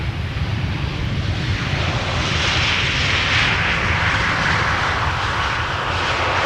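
A Ryanair jet passes at Amsterdam Schiphol Airport, its loud, steady engine roar swelling gradually as the aircraft draws near, with wind noise in the background and no voices.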